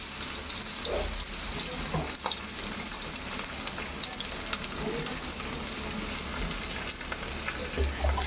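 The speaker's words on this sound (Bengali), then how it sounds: "পটলগুলো ভেজে নিই।" Pointed gourd (potol) frying in hot oil: a steady, close sizzle with scraping stir sounds and a brief trickle of running water in the background, continuing without pause.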